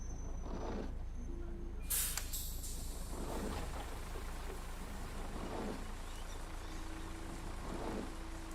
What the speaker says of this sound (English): I wish it wasn't raining in Lincoln